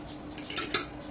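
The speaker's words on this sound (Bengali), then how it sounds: "ডিম আর দুধের যে ব্যাটারটা সেটা আরেকটু নেড়ে নিচ্ছি" A utensil stirs egg and milk batter in a bowl, giving a few light clinks against the sides during a brief, quiet moment.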